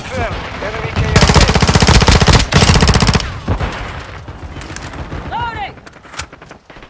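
Rapid automatic gunfire bursts loudly for about two seconds in a combat game firefight, followed by scattered shots and a shouted voice over the clatter.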